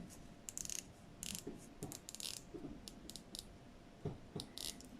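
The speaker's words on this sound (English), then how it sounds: "Crown screws down nicely." Faint, fine ratcheting clicks in short bursts as the screw-down crown of an automatic watch is turned, close-up and quiet, with small irregular ticks between the bursts.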